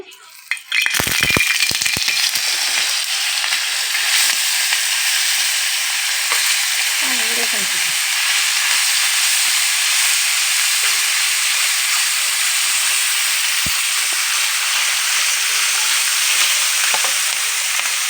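Small fish drop into hot mustard oil on a griddle, setting off a loud, continuous sizzle and hiss that holds steady at close range, with occasional faint clatter beneath it.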